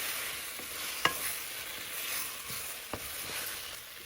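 Chili and black pepper are stirred into apple chutney in a pan over a soft, steady sizzle. Two brief clicks from the spoon against the pan stand out, it is fairly quiet and close, and no one talks.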